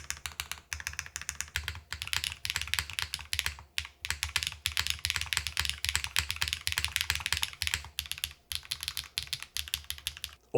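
Continuous fast typing on an Athena 65 mechanical keyboard, close and crisp, with rapid clacking keystrokes, a few brief pauses and heavier hits that fit the enter and backspace keys, and no voices.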